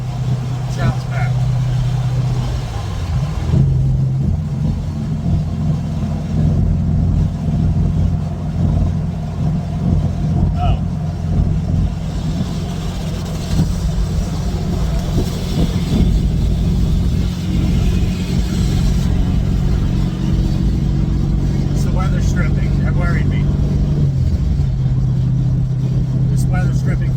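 A car engine, freshly tuned and on its first drive, drones and rumbles steadily at low pitch, uneven and rough, with shifts in revs. Loud, continuous, under in-car noise.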